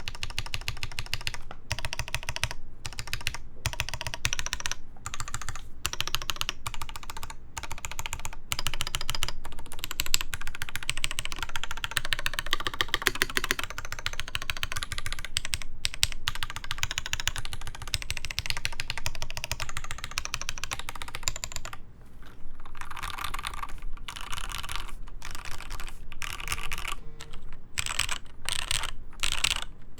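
Typing on a Rama Works Kara keyboard fitted with Gateron Ink switches, with rapid close clacking keystrokes in steady bursts and short pauses between them, all without speech.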